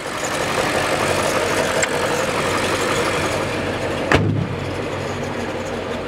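A BMW 540i engine hums steadily as the car drives, a continuous mid-pitched drone with road noise and one short thump partway through.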